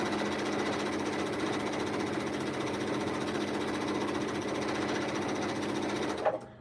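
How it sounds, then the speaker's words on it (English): A sewing machine runs steadily with a rapid mechanical chatter, then stops abruptly near the end. "it makes the sewing machine louder"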